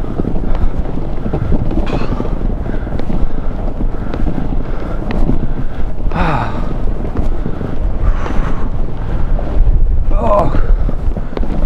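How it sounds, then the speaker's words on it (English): Steady wind buffeting the microphone throughout, a constant low roar with gusts, with voices talking faintly underneath, near a helicopter ride in London. "So windy."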